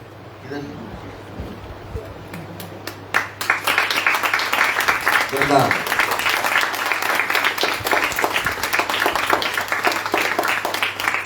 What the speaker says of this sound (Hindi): जब तक नहीं आते ताली बजाते रहो।